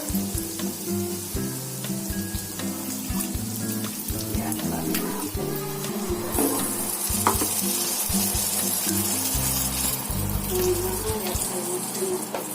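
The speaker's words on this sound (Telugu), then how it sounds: "అయిన తర్వాత కొంచెం వాటర్ పోసుకోవాలి" Steady loud sizzling fills the scene as water is poured into a hot pan of prawn curry, with occasional stirring clinks and a low background hum.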